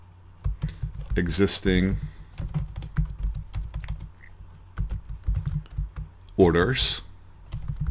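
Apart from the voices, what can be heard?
typing on a computer keyboard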